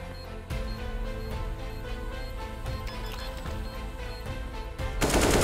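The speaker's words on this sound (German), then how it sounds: "Tran schießt Tran durch" Rapid automatic gunfire fills a Counter-Strike style video game round in a dense, continuous stream of shots. A louder burst of noise comes at the end.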